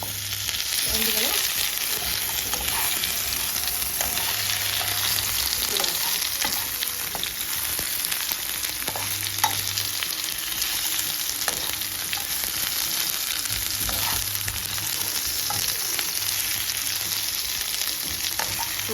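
Mandi-style Arabic chicken pieces frying in a pan give a steady, loud, close sizzle with bubbling crackle throughout, broken by occasional stirring or tossing clatters.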